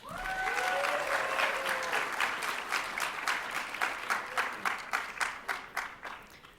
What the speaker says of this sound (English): And a round of applause for all of our graduates.